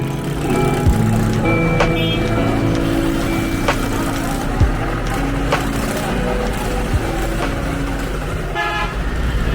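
Dense street traffic in a Lahore, Pakistan traffic jam, with engines rumbling and car horns honking repeatedly, close and loud, a constant busy din.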